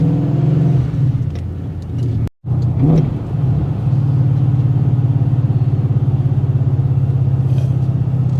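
A steady Mustang engine hum while driving, a 700-plus horsepower street car, low and continuous, with a brief dropout partway before the smooth cruising drone resumes.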